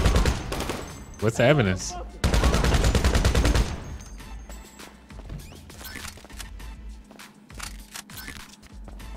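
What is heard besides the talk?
gunfire in the video game GTA 5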